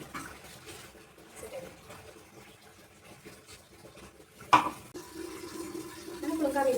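Milk poured into a boiling curry pot, with a sudden splash followed by a steady, rising liquid pour and bubbling that grows louder toward the end, close by and mostly alone.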